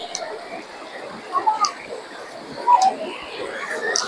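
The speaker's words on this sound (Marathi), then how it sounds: "पाण्याचा जो एक झरझर असा आवाज आहे" Rushing water from a little-known waterfall in Junnar taluka pours in a steady, broad hiss, with faint voices nearby and a few brief rises in loudness.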